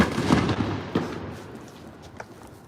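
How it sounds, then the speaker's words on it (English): A firework mortar bursts nearby in a residential neighborhood, a sharp loud boom followed by a second report and fainter crackling pops fading into the open air. "It's oh, there's a mortar."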